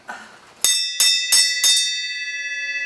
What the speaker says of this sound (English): you got to ring the bell